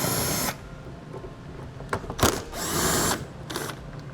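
Power drill spinning out T15 Torx fasteners that hold a fender liner to the fascia in the wheel well, with several bursts of whirring separated by short pauses, close and alone.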